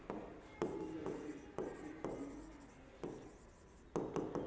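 Notes being written by hand during a business studies lesson, close scratchy pen strokes in short bursts separated by brief pauses and sharp taps, moderately quiet with no speech over it.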